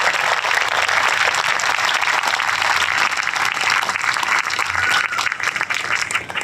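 A crowd at a 9/11 memorial service at the Vernon County Fair gives a long, loud, sustained round of applause for first responders, speakers and the honor guard, steady many-handed clapping throughout.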